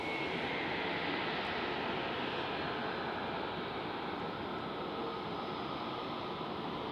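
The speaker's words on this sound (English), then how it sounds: "We first have a look at the liftoff of Air France" An Air France airliner takes off at Zurich Airport on a foggy morning, its engines a steady, loud, broad roar that holds without a break throughout.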